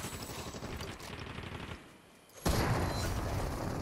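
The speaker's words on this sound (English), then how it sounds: "Hit a guy over there a ton of times with the shotgun." Rapid shotgun fire from the video game Fortnite, a dense burst of crackling shots that drops away briefly, then a sudden loud blast that keeps going, with no talk over it.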